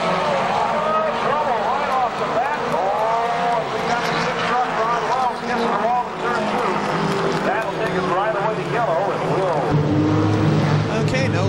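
Race cars roar around the track at KilKare Speedway during a two-wide restart, their engines droning loudly and continuously with pitch sweeps as cars pass, while an announcer talks over the noise.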